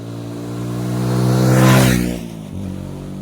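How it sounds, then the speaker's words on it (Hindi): A motorcycle passes by, its engine drone swelling as it approaches, peaking loudly near the middle, then dropping in pitch and fading as it moves away, with no talking. "फिर बाइक को निकलने देते हम।"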